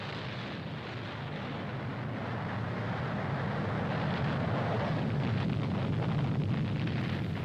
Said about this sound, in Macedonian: Надворот Западна Австралија се изведува експлозијата на првата британска атомска бомба.